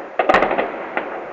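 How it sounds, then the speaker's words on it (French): Fireworks bursting at a 2012 display in Tudela, heard as a quick cluster of loud pops followed by one more burst after a short pause, with nearby crowd ambience and no clear speech. "Ouais, feux d'artifice, il se coche direct les feux d'artifice."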